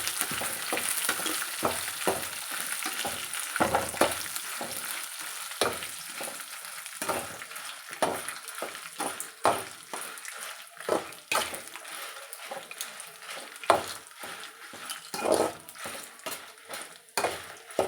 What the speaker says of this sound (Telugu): మిరపకాయలు కూడా ఒక 2 మినిట్స్ వేగేంత వరకు వేయించుకొని సిమ్లో వేయించుకుంటే ఫ్రెండ్స్ అది మాడిపోకుండా ఉంటాయి